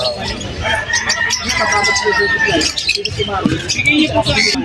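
A rooster crows and chickens cluck at a busy chicken sale, with loud overlapping talk from people close by.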